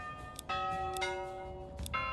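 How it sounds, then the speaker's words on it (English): A church bell in the medieval strategy game Manor Lords tolls four times at an even, unhurried pace, each strike ringing on with a bright sustained hum between blows. "sound the church bell"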